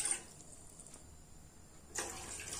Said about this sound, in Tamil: இதில் 2 டம்ளர் தண்ணி சேர்த்திக்கோங்க